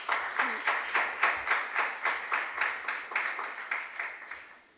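An audience claps for contestants at a regional junior science and maths quiz in rhythmic unison, about a dozen evenly spaced beats at moderate volume, then fades out.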